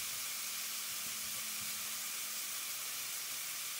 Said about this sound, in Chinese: 加入青椒丝，翻炒出青辣椒的清香味